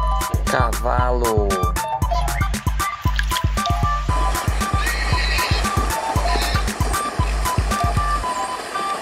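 A horse gives a clear whinny near the start, followed by steady, rhythmic hoof clip-clops continuing throughout.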